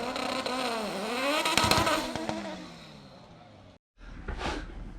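A GTR race car roars past on a racetrack, its engine note rising and then falling away as it passes, followed by a brief cutout and then faint crowd or ambient noise.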